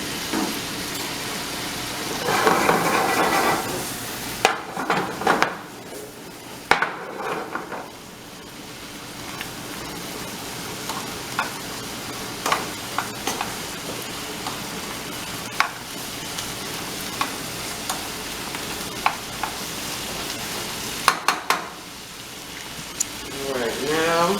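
Philly cheesesteak meat and cheese sizzling on a hot cooking surface, a steady crackle under occasional scraping and clanks as the food is flipped, with soft talking in places.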